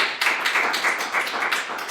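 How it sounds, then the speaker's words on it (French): Modest audience applause after a library talk, a small group clapping with audible individual claps pulsing in uneven bursts, close and fairly quiet with no talk over it. "On peut l'applaudir."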